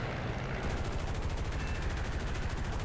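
A P-47D-28 fighter's guns hammer at a BV 238 flying boat in War Thunder, a continuous dense stream of rapid machine-gun fire running the whole time, loud and steady.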